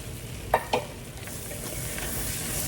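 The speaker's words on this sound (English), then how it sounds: "Once your butter is melted and nice and foamy, go ahead and add in your flour." Flour whisked into melted, foaming butter in a skillet for a homemade cream of chicken soup base: two quick scraping taps early on, then a steady soft sizzle and stirring hiss without talk.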